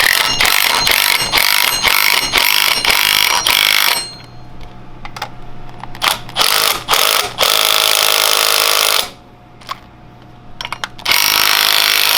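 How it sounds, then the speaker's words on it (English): Impact wrench with a 17mm socket driving a nut onto a 150cc GY6 go-kart swing arm, loud close bursts of hammering rattle, a long run, then shorter stutters with pauses, and a final burst. "We're going to take our 17 and impact it all on."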